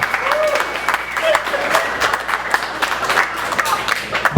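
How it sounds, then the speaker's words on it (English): An audience at a comedy show applauds, with dense, sustained clapping from the crowd and a few voices mixed in. "Clap it up for yourselves."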